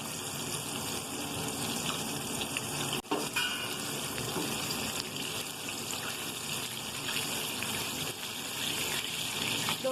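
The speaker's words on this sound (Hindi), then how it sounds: "इसको मैं साथ साथ पलट भी रही हूँ, फ्राई करते हुए आगे पीछे से" Chicken pieces shallow-frying for broast in a pan on the stove, a continuous close sizzle and bubbling with a brief clatter as the pieces are turned over.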